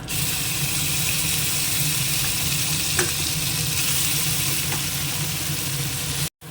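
A paste of shrimp, green chilli and tomato frying in a pan, a loud continuous rushing sizzle held steady throughout, ending in a brief cut to silence.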